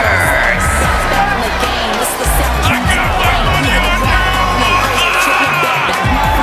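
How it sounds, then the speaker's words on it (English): A video game wrestling arena crowd in WWE 2K24 roars steadily and loudly throughout, a dense cheering din with scattered shouts and whoops, while commentary talks over it. "the crowd is going crazy over Mercedes here tonight"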